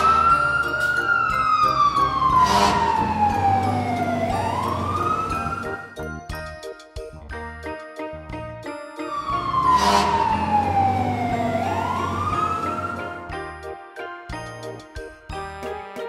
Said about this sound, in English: Yellow. Fire engine.